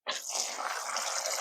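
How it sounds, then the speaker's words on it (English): Water poured steadily into a thick mix, a continuous close splashing gush starting abruptly and running without a break. "I'm gonna throw a little bit more water in it."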